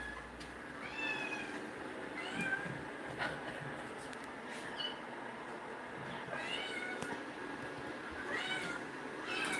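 Several kittens meowing in a house shared with many cats, high thin mews repeating on and off over a steady background hum, fairly quiet and somewhat distant.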